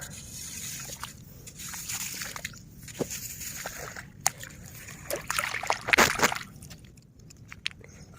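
Freshly caught crabs are washed in water, making uneven splashes and sloshing close by, with drips and a louder flurry of splashing near the end. Voices talk faintly in the background.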